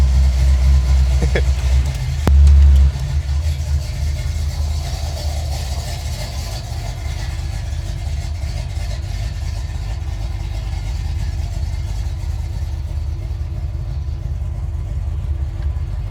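A Ford Fairlane engine idles and runs steadily from inside the cabin, a low rumbling drone with a brief bump early on.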